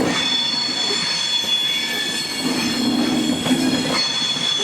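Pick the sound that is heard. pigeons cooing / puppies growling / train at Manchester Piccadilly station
train at Manchester Piccadilly station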